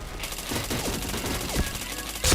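Rapid bursts of gunfire from the video game Point Blank crackle at moderate volume, several quick shots in an uneven series followed by a louder burst at the end, with no one talking.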